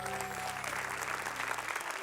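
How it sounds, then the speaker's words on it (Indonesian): Applause rises from a studio audience at an Indonesian comedy talk show, a steady wash of clapping from a crowd heard close and even throughout. "tepuk tangan dulu dong."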